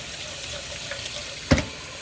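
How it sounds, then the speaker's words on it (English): Rice is rinsed under running water at a kitchen sink, a steady close rush of tap water with a brief splash near the end, no voices. "Let's wash up the rice. Let's wash the rice."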